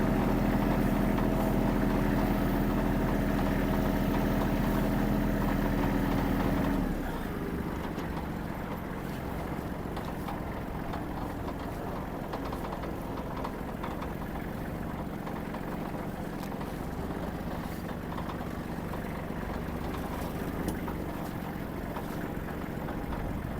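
A Kubota GL-23 Japanese mini tractor's engine runs loud and steady while it drives back, then drops to a quieter, rougher rumble with wind-like noise for the rest of the stretch.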